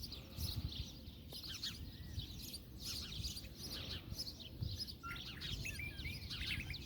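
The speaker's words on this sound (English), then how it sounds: "can you hear all the birds?" Many birds chirping and calling outdoors near horses and saguaro cactus, a busy chorus of faint overlapping tweets over a low rustling wind background with no speech.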